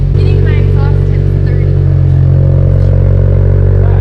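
A built Subaru STI engine idling steadily just after its first start, loud and close with a constant low rumble and exhaust drone, voices talking over it.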